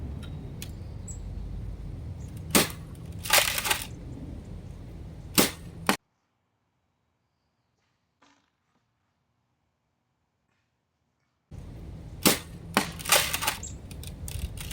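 A Nexus Pro air rifle fires at a target 50 feet away outdoors, giving sharp, fairly quiet cracks with small follow-up taps. They come in two short groups split by a stretch of silence.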